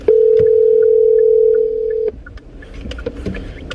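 A phone call is placed and a steady electronic tone sounds loudly for about two seconds, then cuts off. Faint clicks, rustling and low vehicle rumble follow, with no speech.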